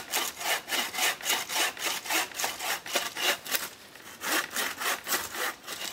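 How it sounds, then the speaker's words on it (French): A hand saw works through a thick log outdoors in a forest, with steady rasping strokes in an even back-and-forth rhythm, close and fairly loud, and no voices. "l'inconvénient des gros diamètres, c'est que c'est long à scier"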